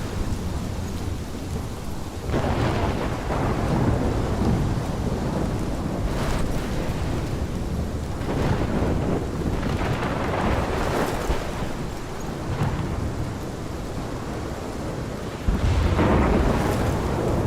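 Heavy rain pours steadily in a Life is Strange video game thunderstorm, as rolling thunder swells and booms several times over the constant downpour, with no voices.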